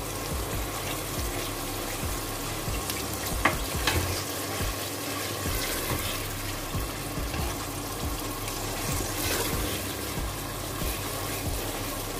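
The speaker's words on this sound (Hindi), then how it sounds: "इसको मैंने तकरीबन 2 से 3 मिनट अच्छे से भून लिया है।" Onions and green chillies frying in a pan give off a steady, close, loud sizzle that holds throughout, with occasional stirring scrapes and no talking.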